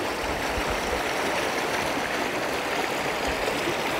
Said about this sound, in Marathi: पण सगळ्या नाल्यांमधून पाणी जातंय.